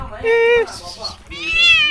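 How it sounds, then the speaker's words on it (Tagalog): A domestic cat with black tabby stripes meows twice, drawn-out and fairly close, with a brief gap between calls, outdoors at a night fishing spot. "yung pusa ko kulay toman"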